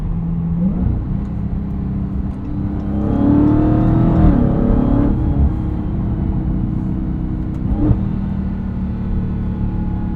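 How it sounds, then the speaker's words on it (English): A 2023 Dodge Charger Hellcat Widebody on the move: a deep, loud V8 exhaust rumble that builds under throttle around the middle, layered with a rising supercharger whine, then settles to a steady cruise drone. "Dodge did such a great job with the exhaust tuning on this Charger Hellcat"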